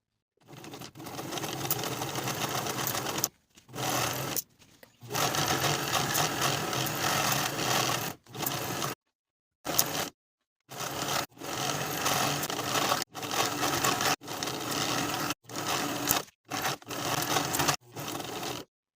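A sewing machine stitches along the top edge of a fabric bow tie in bursts of rapid whirring, stopping briefly and restarting about a dozen times, close and fairly loud.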